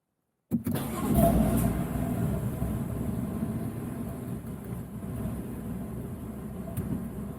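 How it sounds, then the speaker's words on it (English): A car engine cranks and catches, then settles into a steady idle that carries on close by; the car has lost three gears after a bad transmission software update. "Starting car."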